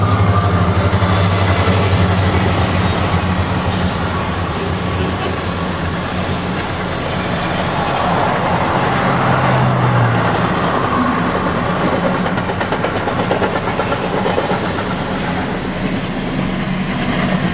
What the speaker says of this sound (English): It's the only train that we have that comes through here.